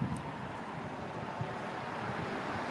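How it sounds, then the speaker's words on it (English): Wind blowing outdoors at a camp, a steady broadband rush with faint gusty swells and no talk. "it's kind of windy"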